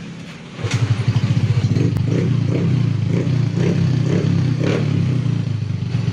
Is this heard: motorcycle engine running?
yes